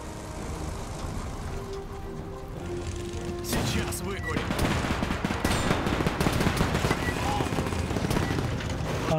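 Rapid machine-gun bursts and scattered gunshots in the World War II strategy game Men of War II, growing denser and louder after a few seconds and mixed with vehicle rumble, while someone talks throughout.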